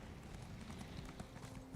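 A horse gallops in Elder Scrolls Online, a quick, steady clip-clop of hooves running continuously and fairly faint for a couple of seconds.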